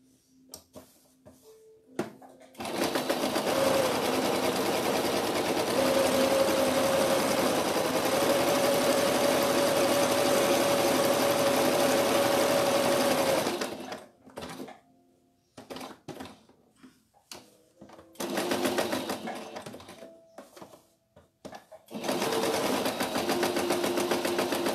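A sewing machine stitches the body of a cloth rag doll, a close, steady high-pitched whir in one long run of about ten seconds, then shorter bursts separated by handling pauses and quiet.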